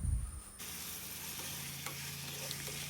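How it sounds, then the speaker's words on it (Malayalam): Onions for a chicken biryani masala sizzle steadily in a hot pan while being stirred with a little salt, a soft continuous frying hiss with a few faint scrapes and no speech. "മസാല ഉണ്ടാക്കാൻ വേണ്ട സവാള ഇട്ട് കൊടുക്കുക ആദ്യം തന്നെ. എന്നിട്ട് അല്പം ഉപ്പിട്ടിട്ട് നല്ലപോലെ ഇളക്കി കൊടുക്കുക."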